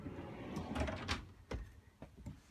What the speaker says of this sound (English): Cabinet here that opens up